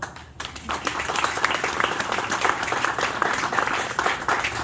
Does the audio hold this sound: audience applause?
yes